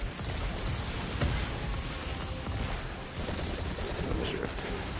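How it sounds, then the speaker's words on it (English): Dense gunfire and explosions from the video game Destiny 2: Lightfall, a continuous loud barrage of shots and blasts with no pauses across the whole stretch. "Is there explosions everywhere?"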